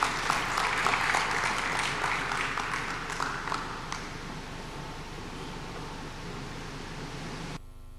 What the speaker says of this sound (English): A round of applause as she comes.